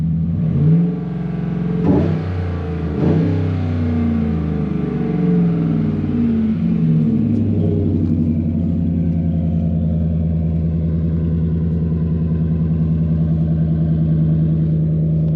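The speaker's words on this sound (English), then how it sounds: "Nice little rumble to it. Give it some gas." A 2007–2014 Chevrolet Silverado pickup with an aftermarket exhaust kit revs up sharply twice with a deep, throaty exhaust rumble, then settles into a steady, loud low idle.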